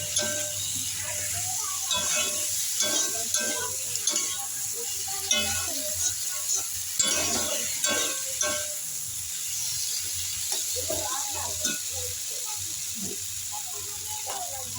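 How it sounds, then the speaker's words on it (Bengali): Poppy seed paste being stirred with potato, tomato and drumsticks in a pan, producing a continuous soft sizzle and hiss with intermittent scraping and clinks of stirring. "পোস্ত ভালো করে মিশিয়ে দিন আলু টমেটো সজনে ডাটার সঙ্গে"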